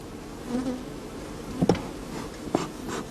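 Honey bee colony at an open hive with honeycombs two-thirds full of honey, individual bees buzzing close by in short passing drones over a soft steady hum.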